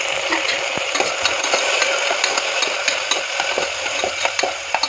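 Onions are sauteed in a pan, a constant bright frying hiss with regular sharp spatula taps and scrapes as they are stirred, close and loud with no speech.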